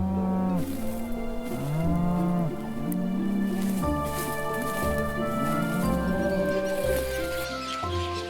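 Cows in a Sardinian pasture moo repeatedly, several long overlapping calls one after another, some near and some farther off, with birds faintly in the background.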